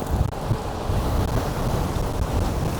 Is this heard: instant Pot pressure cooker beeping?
no